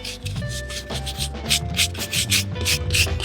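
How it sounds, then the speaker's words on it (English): Repeated scrubbing of an oily concrete floor with a brush, rhythmic close rasping strokes over a faint background music track, with no voices. "Let's scrub this thing down, get as much dirt and crud off."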